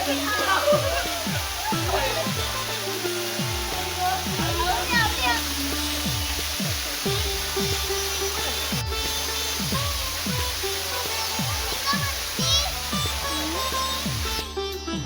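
Steady rushing water of a waterfall roars in the background while several people talk loudly over it nearby; Nhavan Kond waterfall, Talavade, Devgad, in the Konkan.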